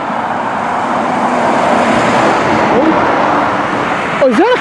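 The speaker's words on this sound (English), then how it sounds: "we got a whole other bunch of trucks coming" A group of trucks, including a Hino, drive past on a busy road in a continuous traffic rumble, with a brief high squeak near the end.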